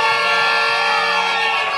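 A wedding congregation in a church cheers and acclaims loudly together, a dense crowd roar with shouting voices held for a couple of seconds.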